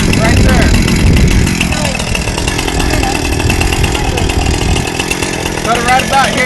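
A chainsaw runs close and loud throughout, a rough droning engine with slight revving, while people talk over it.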